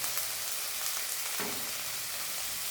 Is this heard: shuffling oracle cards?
no